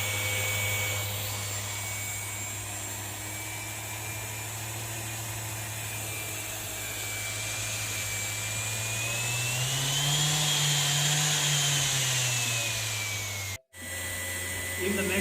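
A Bosch random orbital sander running at reduced speed: a steady mechanical whir with a constant low hum and a whining tone that dips and rises slightly, running continuously before briefly cutting out near the end.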